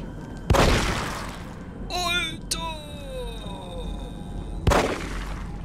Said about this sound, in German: Der ist ja mal fies, der Revolver.